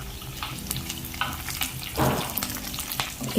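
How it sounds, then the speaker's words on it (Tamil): Chopped onions sizzle and fry in a pan for a lentil dumpling curry, a close, steady crackling hiss with occasional stirring scrapes and no talk. "இப்போ நல்லா வதக்கணும்."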